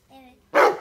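A dog at a kennel with cane corso and dogo argentino breeds gives a single sharp bark, preceded by a faint whine-like tone, close and loud.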